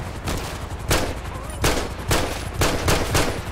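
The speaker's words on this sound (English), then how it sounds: "Shots fired." Rapid bursts of gunfire in a GTA 5 police chase, several loud volleys of shots at close range over steady game engine and traffic noise, with no speech.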